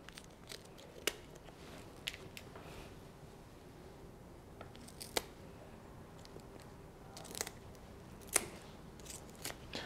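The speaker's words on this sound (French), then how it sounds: "Tout d'abord, on va couper les pattes." Kitchen scissors snipping the feet off a raw bird: several sharp, isolated clicks and crunches spaced a few seconds apart, quiet and close, with faint handling noise between cuts.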